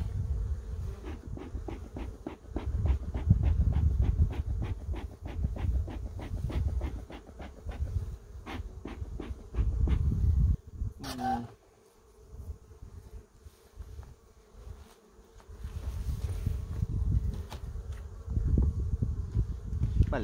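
Honey bees hum in a beehive being readied for winter, with a steady buzz over regular soft clicks and knocks from handling. The buzzing drops away for a few seconds in the middle, then returns.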